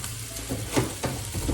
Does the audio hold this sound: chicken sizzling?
yes